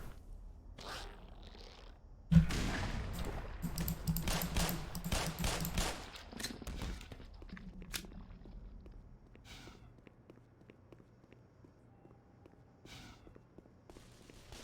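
Bursts of rapid gunfire in a video game on the Vault 127 map, a dense volley after a sharp onset followed by scattered quieter shots and movement noises, with no talking.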